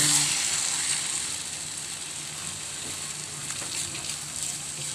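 Egg sizzling as it fries in a hot pan, a steady, dense crackle and hiss that runs close and continuous for the whole stretch with no voices over it.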